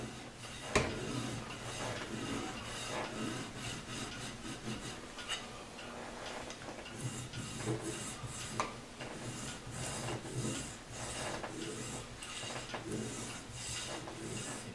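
A steel file rasps across a bone guitar nut blank in steady, repeated strokes, close and moderately quiet, with a continuous gritty scraping texture and brief louder catches between passes.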